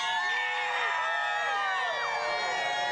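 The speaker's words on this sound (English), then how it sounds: "The crowd's getting really excited too." A large outdoor crowd cheers and whoops just before the total solar eclipse of August 2017, many overlapping excited voices and shouts rising and falling in a dense, sustained roar.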